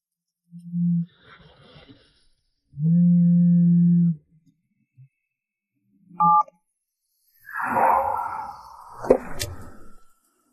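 A telephone is dialed in a Chinese short drama: a few separate electronic beeps, one held longer, sound alone and up close, followed by a burst of scuffling noise.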